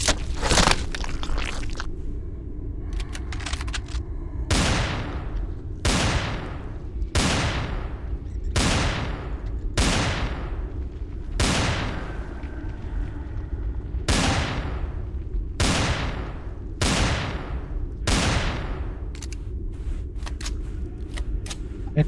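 Repeated heavy gunfire in the sci-fi survival game Empyrion Reforged Eden 2, a dozen loud booming shots spaced about a second apart over a steady rumbling background, with brief bursts of rapid fire early on.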